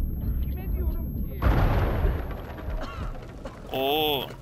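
Explosions in Uncharted 4: A Thief's End, a heavy booming blast rumbling for a couple of seconds after a quieter stretch, followed by a warbling tonal cry and background game noise, with a voice talking.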